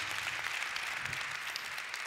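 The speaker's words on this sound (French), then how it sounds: "ça mérite déjà des applaudissements" Audience applause at an awards ceremony, a steady, dense wash of many hands clapping at moderate distance, continuous for a couple of seconds with no break.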